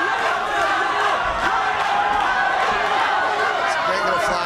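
Crowd cheering and roaring at an MMA cage fight, a dense, steady wall of loud crowd noise with shouts rising throughout, under continuous commentary from a voice.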